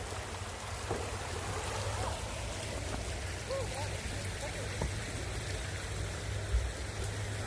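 The waterfall at Yates Cider Mill gives a steady, even rush of falling water that fills the scene at moderate loudness, with a low hum underneath and faint voices in the background.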